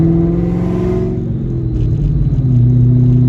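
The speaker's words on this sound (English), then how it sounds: "just hearing the cold start difference, you probably know which one you'd rather have" Ford Mustang V8 engine, an S197 Shelby GT500 or a Terminator Cobra, on a cold start: a loud, close, deep rumbling idle that starts high and settles lower after a second, steady and alone.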